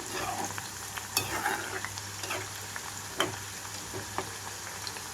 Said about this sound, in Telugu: నేనైతే మీడియం ఫ్లేమ్లో పెట్టి వేయించుకుంటున్నాను